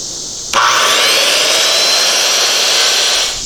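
A wooden post for a backyard pavilion has its end squared off with a saw: a steady, continuous rasping cut starts abruptly after a brief pause and carries on loud and close until the end, with no talking.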